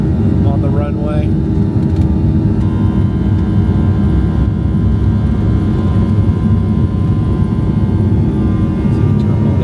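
Passenger airplane taking off from a runway at St. Louis, heard from inside the cabin: a loud, steady engine roar and rumble fills the whole stretch, with a voice briefly speaking over it.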